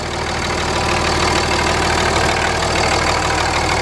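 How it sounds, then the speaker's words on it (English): A grey Ram 2500 diesel pickup with a Cummins-style engine, Banks exhaust and no catalytic converter idles close by, a loud, steady, even rumble with no voices. "So you can hear this motor is quiet. Sounds just like a Cummins."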